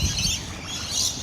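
Many birds chirping outdoors, a dense overlapping chatter of high tweets filling the whole moment, fairly loud and close with no voices.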